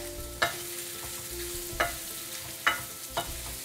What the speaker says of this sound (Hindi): इन्हें कुछ 1 से 2 मिनट मैं अच्छे से इन मसालों में भून लूंगी